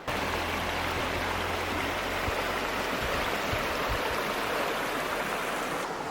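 A cold mountain creek flows steadily nearby, a continuous rushing, babbling wash of water with no break and no voices.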